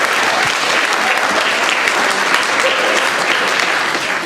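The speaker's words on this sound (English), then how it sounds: "please give a warm round of applause to our advice panel" An audience at an improv comedy show gives a warm round of applause, a loud, even wash of many hands clapping that holds steady for the whole stretch without any break.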